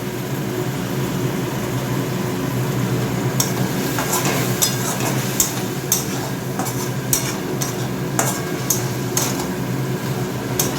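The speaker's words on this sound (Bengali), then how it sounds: "আরেকটু জল দেবো এবারে, দিয়ে আরেকটু কষাবো।" Spiced vegetables are stirred and sautéed with a little water in a pan, giving a steady sizzle under repeated sharp scrapes and clinks of the spoon against the pan.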